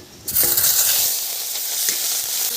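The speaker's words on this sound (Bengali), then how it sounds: "এবারে দিয়ে দেব চিংড়ি," Prawns drop into hot oil in a karai where chillies were just fried, setting off a sudden loud, steady sizzle that keeps hissing close by, with no talk.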